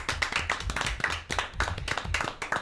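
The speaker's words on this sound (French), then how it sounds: "On peut les applaudir bien fort si vous êtes bien d'accord." Applause from a small studio audience on a French automotive talk show, with individual hand claps distinct and irregular, moderately loud and close, sustained for a few seconds without talk.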